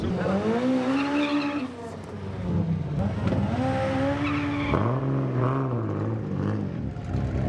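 An Audi corners hard at the Retro Rides Gathering 2019 car show. Loud, nearby tire squeal rises and falls in several sustained wails over a constant engine roar.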